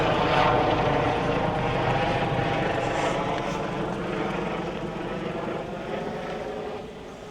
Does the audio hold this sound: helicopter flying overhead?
yes